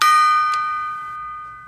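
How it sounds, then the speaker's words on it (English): A mini gong struck once, giving a bright metallic ring that swells at the hit and then decays slowly. A soft secondary shimmer follows shortly after, with no talk over it. "If you hit the gong right in the yin yang,"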